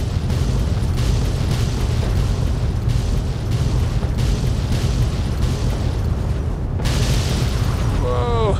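Fireworks burst repeatedly in the video game Fallout 3, a loud, rolling sequence of booms and pops with regular sharp blasts, ending with a late bright crack and a brief voiced exclamation.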